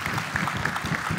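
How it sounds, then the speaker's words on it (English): A church congregation applauding during a Sunday morning service, a short dense patter of clapping from a full room, heard alone without speech. "You have seen Shaylin, a round of applause as well."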